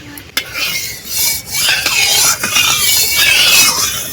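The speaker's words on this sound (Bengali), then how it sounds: "কড়াইতে সরষের তেল দিচ্ছি" Mustard oil goes into a hot wok in a village kitchen, raising a loud, close, bright hiss that swells and stays rough and crackly, with a short clink at the start.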